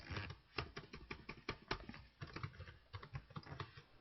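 Typing on a computer keyboard: quick, irregular clicks and taps in bursts, close and fairly soft, with no voice over them.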